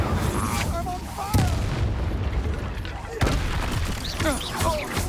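Spells fire off in combat in the video game Hogwarts Legacy, booming blasts and sharp impacts landing every second or two in a dense, loud mix. A voice calls out spell names over the noise.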